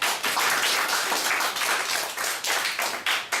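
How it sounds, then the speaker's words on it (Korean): Congregation in a church service applauding together, dense sustained clapping from many hands filling the room with no talk over it. "박수 한번 주세요."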